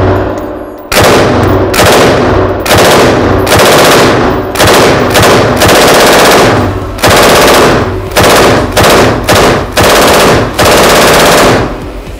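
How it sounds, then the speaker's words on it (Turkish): A KMG 556 machine gun fired at a test range in loud, rapid bursts, about a dozen close, clipped volleys separated by short pauses. "KMG 556 makinalı tüfekle de atışımızı yaptık"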